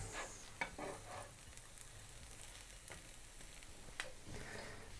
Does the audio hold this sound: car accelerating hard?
no